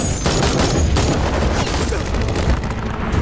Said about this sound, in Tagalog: At dito na nagsimula ang matinding palitan ng putok.